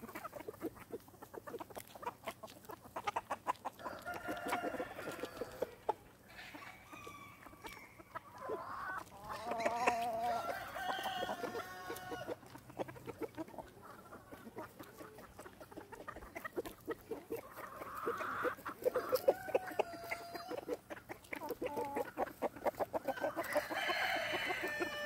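Chickens on a homestead cluck and murmur steadily nearby, with scattered squawks and occasional rooster crowing throughout, busy and continuous at moderate loudness.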